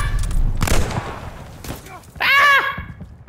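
Gunfire in the video game Call of Duty Vanguard comes in scattered bursts and thuds, with a sharp volley near the end, mixed with excited shouting from a player.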